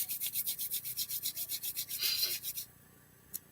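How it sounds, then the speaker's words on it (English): Two hands rub briskly together in a quiet room during a rosacea self-care routine, giving a fast, even series of soft swishing strokes for about two and a half seconds before the sound stops, then one faint tap. "So let's rub the hands and we're going to bring energy"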